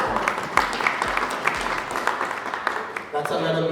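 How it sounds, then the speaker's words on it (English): Scattered applause from an audience at a music announcement event, a steady patter of claps lasting a few seconds with voices mixed in. "You can give us a round of applause, that's fine."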